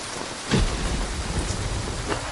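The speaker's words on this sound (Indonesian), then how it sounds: "Kena hujan. Aku akan temanimu kehujanan." Steady rain pours down in a dense, continuous hiss with a low rumble underneath and a couple of brief louder swells, heard close by and without any talking.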